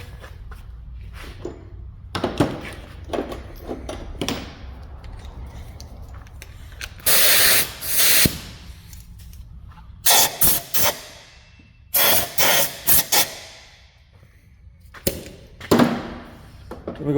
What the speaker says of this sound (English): Here, I'll blow this off again.